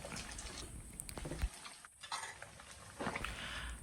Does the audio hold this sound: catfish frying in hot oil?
yes